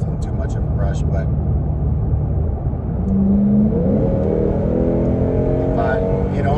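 A 438 whp Lexus RC F with an Invidia exhaust accelerating, heard from inside the cabin as a rising, aggressive engine drone that swells midway under a steady road rumble, with someone talking over it.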